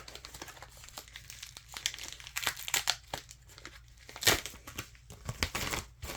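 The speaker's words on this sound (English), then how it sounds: "Let's see if I can just open it like this without the scissors." A package torn open by hand without scissors, crinkling plastic wrapping and ripping in irregular bursts, close and fairly quiet, the loudest tear near the end.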